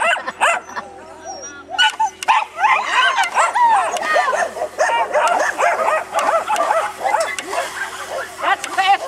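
Ten-year-old dachshund barking at a lure coursing event in rapid, high-pitched yaps and whimpers close by, nearly continuous, with some voices mixed in.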